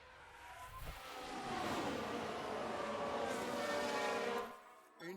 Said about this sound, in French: Une voiture vient de sortir large.